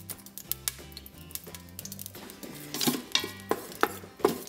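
Dried bay leaves sizzling in hot coconut oil in an Instant Pot, with a row of sharp clicking and tapping stirs growing busier and louder toward the end, no talking.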